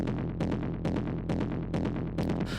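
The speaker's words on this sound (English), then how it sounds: "So the next sound that we have here is this sort of bass" Mid-range synth bass from an industrial techno track, a gritty distorted tone pulsing in steady repeated bursts roughly every half second, loud and continuous with no voices.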